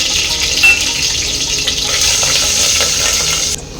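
Slit green chillies drop into hot oil with cumin and sizzle loudly and steadily, a close, hissing fry that cuts off abruptly near the end.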